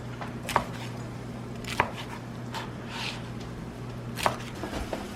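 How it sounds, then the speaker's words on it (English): Waffle slices are chopped into crouton-sized squares with a knife on a board, giving three sharp, distinct knife strikes at uneven intervals over a low steady hum. "Now we're going to chop our waffle slices like croutons."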